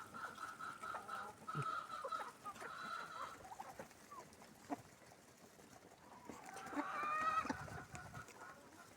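Hens clucking inside a coop on a snowy day, a series of soft, nasal calls with a louder cackling burst near the end, heard close against quiet background.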